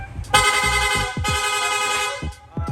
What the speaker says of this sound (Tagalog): Long press lang po natin yung horn switch, yung busina natin, magsusunod-sunod na.